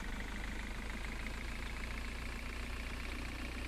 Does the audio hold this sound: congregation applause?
no